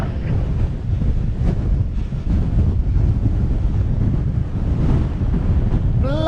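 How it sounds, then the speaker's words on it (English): Strong wind buffets the microphone outdoors beside a hawthorn, making a loud, steady, rumbling roar with gusting swells throughout and no clear voice. "Bloody hell, it's windy."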